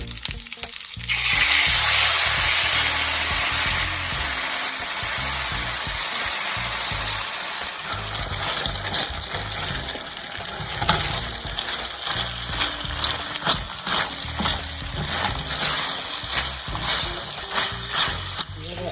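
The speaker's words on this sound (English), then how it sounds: "So it's time for the part that I don't like, to pour the sauce in." Liquid pours into a hot pan with a loud, steady sizzle and hiss that gradually settles into bubbling crackle, close by and without voices.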